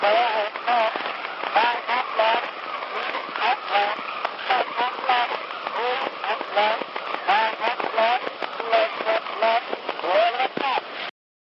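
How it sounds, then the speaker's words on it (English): An 1878 phonograph recording on a lead cylinder, played back as a clock's sound, comes through as a crackly, noisy, band-limited stream of faint tonal fragments and pulses lasting about eleven seconds. "Today, it's the oldest known sound recording that had been specifically designed to be played back."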